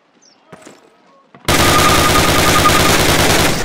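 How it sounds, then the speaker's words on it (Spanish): Call of Duty gunfire at a target, starting after a quiet lead-in of faint sounds: a sudden loud burst of rapid automatic shots rattles continuously for over two seconds at close range. "Dispare 10 veces a su objetivo."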